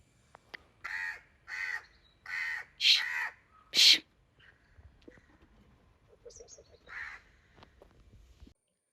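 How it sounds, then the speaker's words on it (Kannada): A crow caws five times in quick succession, loud and near, followed by quieter rustling and a softer distant call. "ಎಷ್ಟೇ ಓಡಿಸಿದ್ರೂ ಇಲ್ಲೇ ಬರ್ತಾ ಇದೆ ಕಾಗೆ."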